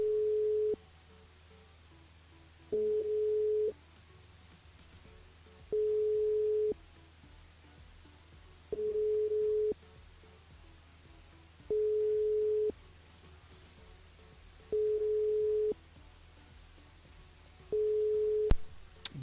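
A French radio call-in line rings with no answer: seven steady ringback tones, each about a second long and evenly spaced roughly three seconds apart, over a low hum with no talk.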